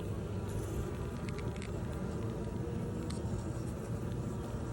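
A steady, dense buzzing drone of many honey bees at a hive, continuous and close, with no voices.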